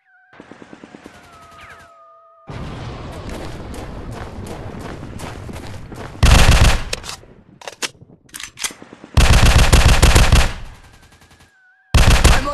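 Machine gun fire in a commando video game comes in loud sustained bursts, with lighter rapid shots and quieter game effects in between.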